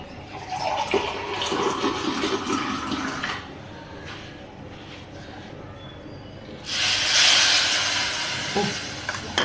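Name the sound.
water being poured into fish curry pan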